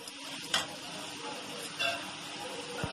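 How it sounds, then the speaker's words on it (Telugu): Onion paste frying in oil for a Telugu jackfruit curry, a steady broad sizzle with two brief stirring scrapes and clinks standing out above it. "ఉల్లిపాయల పేస్టు నూనెలో వేస్తున్నాను"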